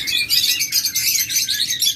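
Many small pet birds, lovebirds, cockatiels and budgerigars, chirp and tweet nonstop at a bird sale, a dense bright chatter of overlapping calls that stays loud and close throughout.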